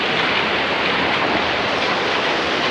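A small waterfall in the Subway slot canyon of Zion National Park gives a loud, steady, close-up rush of pouring water with no break.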